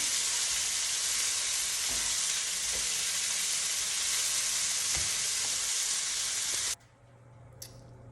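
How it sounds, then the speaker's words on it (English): Chicken breasts sizzle loudly and steadily in a hot saute pan, a dense close frying hiss with faint clinks, cutting off abruptly near the end to near quiet. "my chicken breasts are what I call brown enough on each side"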